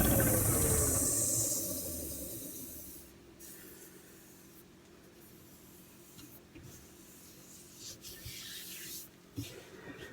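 Sandpaper rubs against a spinning wooden bowl on a lathe with a loud hiss that fades, followed by quieter scratchy friction and a few soft knocks.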